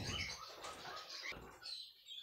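Pet cage birds such as canaries, parrots or finches flutter their wings in soft, close bursts of rustling flapping, with faint chirps mixed in and no talk.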